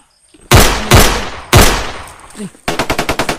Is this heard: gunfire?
yes